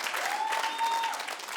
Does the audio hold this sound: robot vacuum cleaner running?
no